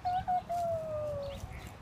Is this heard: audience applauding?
no